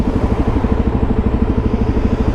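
A Suzuki DRZ400 supermoto single-cylinder engine runs steadily nearby with a fast, even, thumping pulse and mechanical clatter, heard alone without voices.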